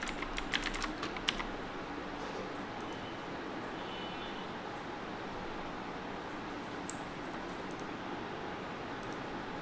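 Someone types a search on a computer keyboard, a quick burst of close key clicks at the start, then only a few scattered taps over a steady background hiss.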